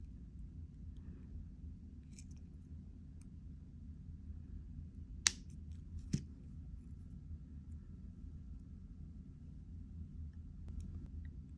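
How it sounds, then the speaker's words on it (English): Jewelry wire being snipped with cutters while wire wrapping earrings, two sharp isolated clicks close together over a low, quiet room hum. "Then I'm going to cut off the excess."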